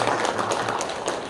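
Congregation clapping together in a church service, a dense, steady patter of many hands sustained throughout at moderate loudness, with no voices over it.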